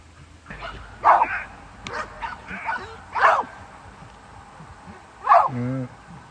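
Purebred German shepherd dogs bark during training: four or five loud, sharp barks spaced a second or two apart, ending in a brief whine.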